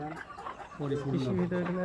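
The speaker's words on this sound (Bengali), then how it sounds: "মুরগি মুরগিগুলো ভয় পাচ্ছে আমাদের দেখে" Frightened chickens cluck in a coop, short agitated calls mixed with voices of people talking nearby, all close and moderately loud.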